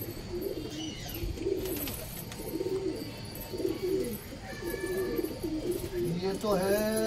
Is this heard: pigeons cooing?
yes